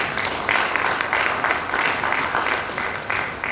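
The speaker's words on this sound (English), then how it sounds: "Let's give them a round of applause." Seminar audience applauding, a sustained wash of many hands clapping for several seconds at a steady level, with no clear talk.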